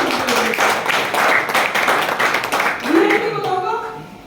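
A seminar audience at a Kangen water business talk claps together in a dense burst of hand claps for a few seconds, then a voice takes over as the clapping fades.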